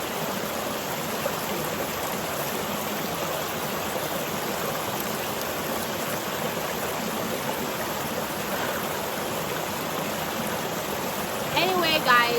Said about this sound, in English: We're at the beautiful river. I think they call the river, yeah, Anato